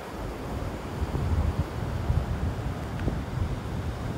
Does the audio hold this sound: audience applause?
no